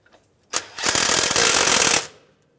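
An impact or power tool runs in one loud, steady rattling burst of about a second and a half, driving a 12 mm front strut bolt on a 2011-2017 Honda Odyssey, close up with no talk.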